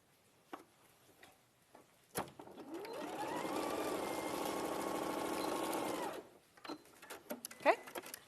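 A sewing machine with a 9mm stitch width stitches straight across garment shoulder seams in one steady run of about four seconds, with brief talk before and after.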